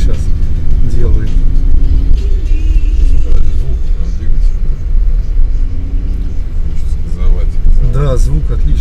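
Mercedes G63 AMG engine running, a deep, loud low-frequency rumble with rises in revs, heard close up under frequent conversation from people in the vehicle.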